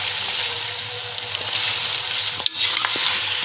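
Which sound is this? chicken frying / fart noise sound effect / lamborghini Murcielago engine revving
chicken frying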